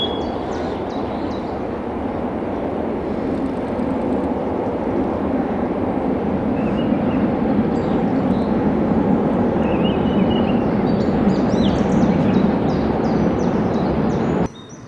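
A ScotRail HST led by power cars 43146 and 43148, running from Inverness to Edinburgh, passes with a loud, sustained rumble and engine roar that stays strong for the whole stretch before cutting off abruptly, with faint birdsong above.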